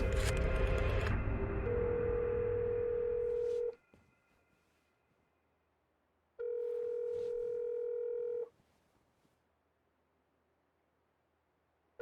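A telephone dial tone in the video game Syberia: The World Before, a steady electronic hum heard in two separate stretches with silence between them, clear and alone.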